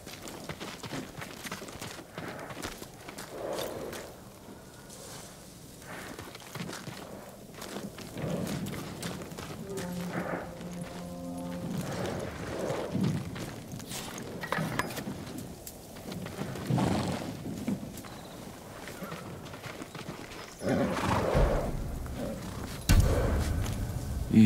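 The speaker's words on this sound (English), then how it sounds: "Let's get to the horses. They're samurai horses." Samurai horses in the video game Ghost of Tsushima move about amid a rainy, stormy soundscape, with soft hoof clops and brief snorts set under steady rain and occasional low rumbles, fairly faint overall.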